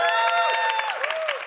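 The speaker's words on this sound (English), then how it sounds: "Clap if you think Vinny can do the Jodie Foster impression." Brief, light clapping from a studio audience on a comedy game show, mixed with strong tonal voice-like sounds and a bit of crowd noise over a short moment.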